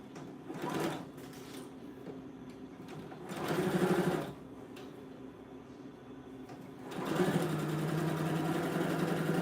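A sewing machine stitches the lining of a tote bag in three loud bursts of whirring, separated by quieter stretches of low hum.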